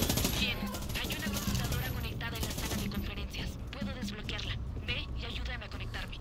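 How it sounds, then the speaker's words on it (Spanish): Rapid bursts of gunfire in Far Cry 6 crackle continuously over a busy mix, with a voice talking underneath. "A veces que los disparos no sé dónde vienen"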